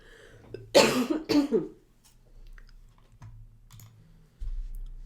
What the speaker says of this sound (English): Sorry, I had to pause for a cough attack.